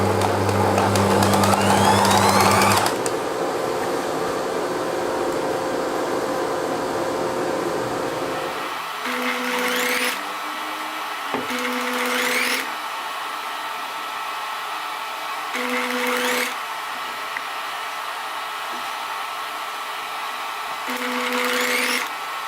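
Sewing machine stitching shirt sleeves: a loud whirring run at first, then several short bursts of stitching separated by quieter pauses, no talk.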